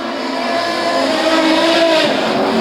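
Production sedan race cars roar past at speed on a circuit, a loud sustained engine howl with rising and shifting pitch as they chase each other, with no talk over it.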